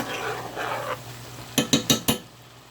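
Brown sugar being stirred into a seafood boil mixture in a pot: four quick, sharp scraping clacks of a utensil against the pot near the end, after a softer rustling stretch, with no talk.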